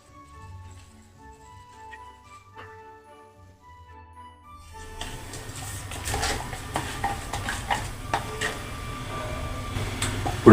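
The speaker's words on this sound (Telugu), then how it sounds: "లైట్గా పెనం మీద ఆయిల్ వేసి" A dosa pan on a lit stove in a home kitchen: quiet at first, then clattering metal scrapes and a soft steady sizzle as oil is spread across the hot pan, with sharp clinks toward the end.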